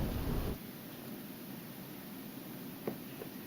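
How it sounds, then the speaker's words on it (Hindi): Steady rain falls continuously over Dehradun, a dense broadband hiss with a louder burst at the start and a couple of faint knocks later, no voices present. "देर रात से लगातार बारिश हो रही है।"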